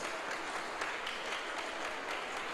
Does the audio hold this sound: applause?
yes